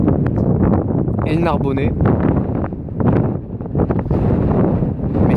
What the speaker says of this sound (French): On a actuellement des rafales supérieures à 60 km/h